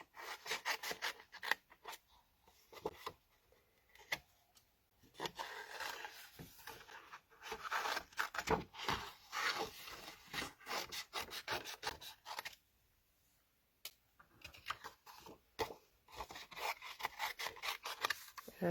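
Scissors fussy-cut around printed paper pieces for scrapbooking, giving repeated close, soft snipping and rubbing rasps in irregular bursts with a brief pause near the end.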